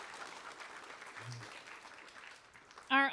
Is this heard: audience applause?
yes